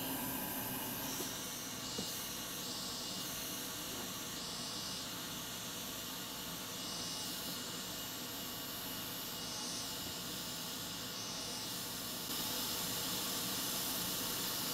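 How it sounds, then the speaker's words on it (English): A hot air rework station blows through a narrow nozzle onto a thick graphics card circuit board, producing a continuous steady hiss that holds at an even level throughout with no talking. "I'm using a narrow nozzle, so I need to change the hot air nozzle."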